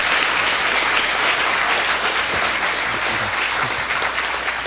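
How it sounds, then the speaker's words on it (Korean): Sustained applause from a university lecture audience welcoming a Samsung Electronics CEO to the stage, a dense steady wash of many hands clapping, loud and even throughout with no talking. "큰 박수로 부탁드립니다."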